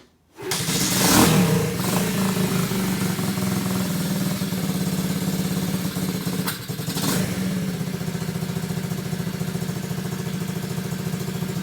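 A 1977 Honda CT70 motorcycle with a Lifan 125cc engine idles close by with a steady, throbbing putter after a quick start-up rev, holding an even rhythm the whole time.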